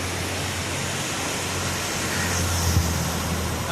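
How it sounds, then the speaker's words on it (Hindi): Water rushing through the Koshi Barrage, a steady broadband roar like a waterfall that holds constant and fairly loud throughout, with a low rumble underneath and no voices. "देख सकते हैं कोसी बराज पर पानी की स्थिति यहाँ आवाज़ नहीं बहुत ज़्यादा भयावह है।"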